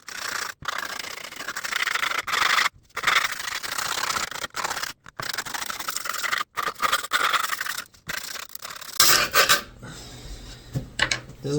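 A small handheld tool scratches across skateboard griptape in repeated rasping strokes, close and fairly loud, broken by short pauses, with a brief clatter near the end.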